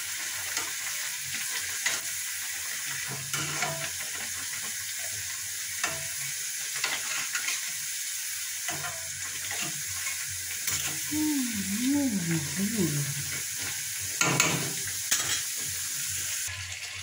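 Four dal puri frying together in hot oil, giving a steady, close sizzle that runs throughout, with occasional soft utensil clinks and brief stirring sounds.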